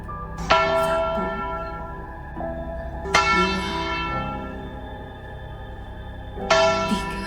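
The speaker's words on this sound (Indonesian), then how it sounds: "Dentangan itu terdengar seperti lonceng tua, menggema pelan namun jelas." An old church bell tolls three times, each loud, ringing strike decaying slowly with a long reverberant hum between blows, alone without voices.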